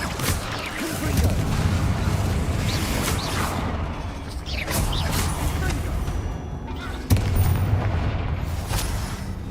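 A Confringo blasting curse explodes in the video game Hogwarts Legacy, amid a dense, continuous wash of booming combat noise with a sharp, loud burst near the end.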